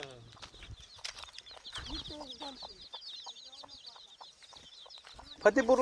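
Free-range village chickens cluck and chatter nearby on a farm in scattered bursts, with people talking intermittently over them and a louder squawk near the end.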